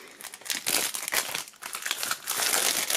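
Plastic shrink-wrap foil crinkles and crackles as it is peeled off a boxed album set, a near, continuous rustling with brief louder bursts and no talk.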